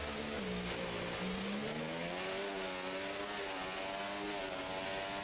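A Formula 1 car in the F1 24 video game starts a qualifying lap at Monaco, its engine holding a loud, steady high-pitched whine that climbs and shifts through the gears throughout, with no talk over it.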